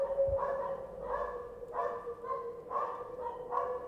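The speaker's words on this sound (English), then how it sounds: "you hear nothing except the barking of the dogs in return" Several dogs bark repeatedly in a steady rhythm, the barks sounding somewhat distant over a low background rumble.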